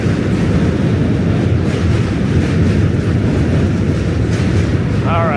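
A subway train, an N line, rumbles across the Manhattan Bridge in New York City as a steady, loud low roar that runs the whole time, with a brief squeal near the end.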